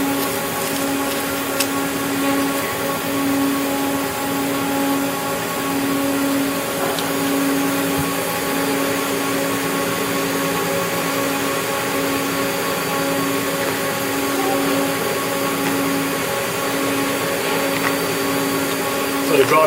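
A vacuum frame pump hums steadily, drawing cover film down over photo negatives for exposure, a constant close mechanical drone with faint tonal whine and no talking.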